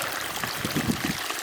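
Spring water trickles from its source into an old mineral-filled tub outdoors on a backpacking trip, a soft continuous dribble with a few gurgles, close by and fairly quiet, with no talking.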